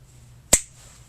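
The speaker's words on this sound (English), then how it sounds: "When I snap my fingers," A single crisp finger snap, sharp and close, standing alone against near silence.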